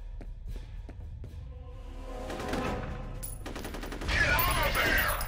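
Gun firing in the F.E.A.R. video game, with fast overlapping shots building into a louder burst of gunfire and sharp impacts near the end over low background rumble.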